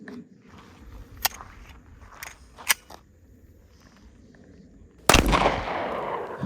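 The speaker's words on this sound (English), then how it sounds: "We're going to use the 9mm with the FN again." A 9mm FN pistol fires into level 3 body armor: after a few faint clicks and handling sounds, one sharp, loud shot cracks out and its echo decays.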